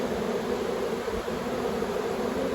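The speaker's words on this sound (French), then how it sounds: "On a un petit essaim qui va se former là-haut, sans doute." A honeybee swarm forms around the hive entrance, giving a steady, dense buzzing drone that holds evenly from start to finish, fairly close and with no voices.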